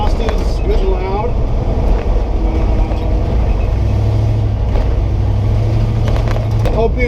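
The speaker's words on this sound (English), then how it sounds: "Exhaust is good and loud." A 1970 Chevrolet C10 pickup truck drives with a loud exhaust, its engine making a steady, heavy rumble throughout, along with some rattling and road noise.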